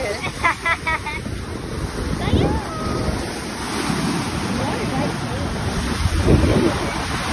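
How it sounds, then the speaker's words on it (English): Ocean waves roll onto a beach in Barcelona, a steady broad wash of surf mixed with gusty wind buffeting the microphone, fairly loud and continuous throughout with faint voices in the background. "The waves were gorgeous."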